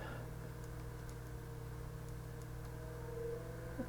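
A retro computer's cooling fan spins steadily at about 1350 RPM, giving a faint, even whir with a low constant hum and a few tonal lines, heard close and alone.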